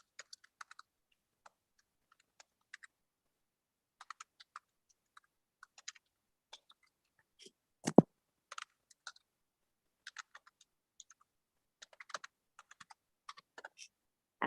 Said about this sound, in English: I'm just typing there.